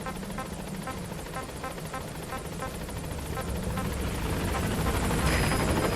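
A helicopter approaches a landing zone in the Metal Gear Solid V: The Phantom Pain video game, its steady rhythmic rotor chop droning throughout and growing louder and closer near the end.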